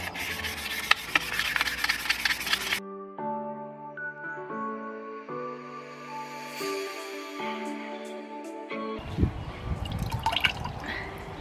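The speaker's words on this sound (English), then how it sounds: "we're going to need a larger grit sandpaper to do a whole lot more sanding" Sandpaper rasps in rapid, gritty strokes on handmade plant pots, then gives way to a tonal melody before the scratchy sanding returns.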